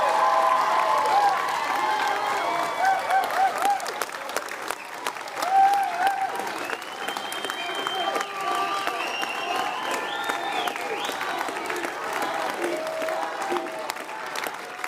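A crowd at a presidential debate applauds a candidate, steady loud clapping with some cheering and whistles sustained throughout, close and dense.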